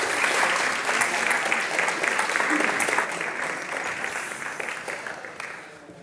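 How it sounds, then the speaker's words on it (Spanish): Audience applause at the closing session of an equality conference, a dense sustained round of clapping that starts strong and gradually tapers off over several seconds. "a ellas ofrecerles también un aplauso"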